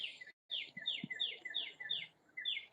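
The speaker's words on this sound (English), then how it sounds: "I hear birds chirping." Birds chirp in a garden on a cloudy day, a steady run of repeated high, sweeping calls about every quarter second, fairly near and clear over faint background noise.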